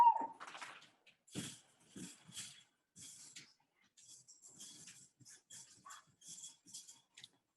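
A puppy in the background gives a faint run of high, thin whimpers and yips in short, irregular bursts, quiet and somewhat distant.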